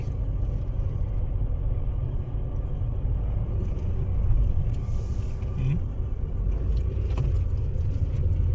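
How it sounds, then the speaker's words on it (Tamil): A car climbs a snowy mountain road in Albania, its engine a steady low rumble throughout with faint rattles and knocks over the drone, close and continuous with no talk. "இந்த வண்டி வந்து மேலே ஏற போகுது திருப்பி."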